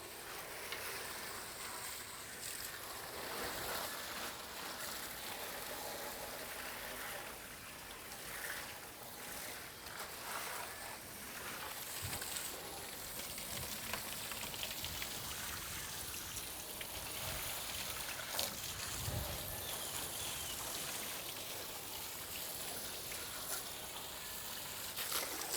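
A garden hose sprays water down the coil of an outdoor AC unit, giving a steady rushing, rain-like hiss that shifts in texture as the stream moves, with no talking.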